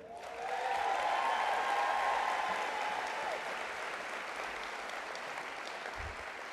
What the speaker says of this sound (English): I take that applause as you approve